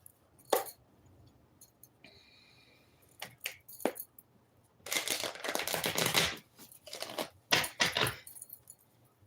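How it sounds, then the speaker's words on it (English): Tarot cards are shuffled back into the deck in bursts of close, crisp riffling and flicking, with short quiet pauses and occasional light taps between them. "let's shuffle those back into the deck"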